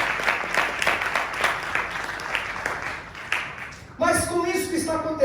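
A church congregation applauds during a sermon, a steady mid-level patter of clapping filling the room for several seconds before a voice cuts in over the tail of it.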